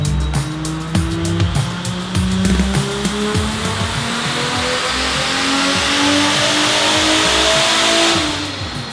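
A Toyota Supra on dyno rollers revs hard under heavy boost, the engine note climbing steadily through a long, loud pull before easing off at the end, with no voices over it.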